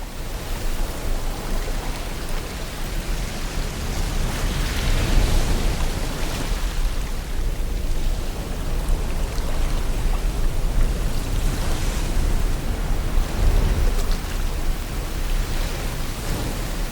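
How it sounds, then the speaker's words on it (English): Steady, dense wash of surf on the Irish coast, a broad roaring hiss with gentle swells in intensity, continuous throughout with no voices. "the Irish coast that we can hear now in the background"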